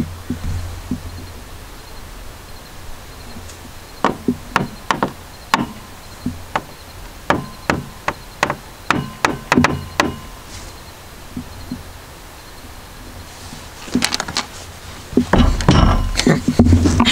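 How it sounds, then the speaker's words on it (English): Sharp knocks on wood ring out in spaced single raps and short bursts during a ghost hunt at a haunted park, clear against a quiet outdoor hiss with faint insect noise, followed by a cluster of louder clattering knocks. "What if I do three knocks?"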